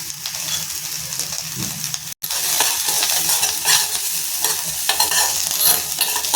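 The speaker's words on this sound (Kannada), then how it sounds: "ಈರುಳ್ಳಿನೇ ಆಗಲಿ ಬೆಳ್ಳುಳ್ಳಿನೇ ಆಗಲಿ ಸ್ವಲ್ಪ ಎಣ್ಣೆ ಹಾಕಿದ್ರೆ ನೀಟಾಗಿ ಫ್ರೈ ಆಗುತ್ತೆ" Onion or garlic fries in a little oil, a loud continuous sizzle broken by a rhythmic series of scraping stirs, with one brief dropout midway and no talk.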